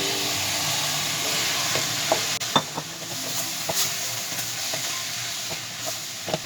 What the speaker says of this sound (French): Je fais revenir. J'ajoute ma tomate concassée.